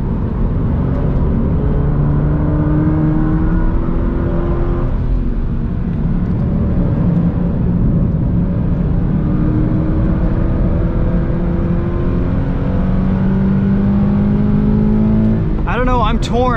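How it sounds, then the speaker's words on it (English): Steady drone of a 2020 Toyota 86 Hakone Edition engine while driving, a loud continuous cabin hum with slowly rising and falling pitch through gears, road and wind noise underneath, and a brief higher whine near the end. "I like the sound of this old 86 a lot better than the new car"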